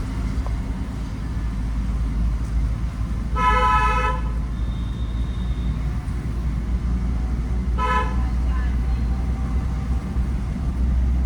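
A car horn sounds in city street traffic, two clear honks, the first close to a second long and the second shorter, standing out over a steady low engine and road rumble.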